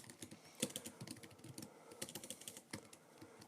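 Quick bursts of typing on a computer keyboard, light clicking keystrokes in irregular runs, close and fairly quiet with no talk.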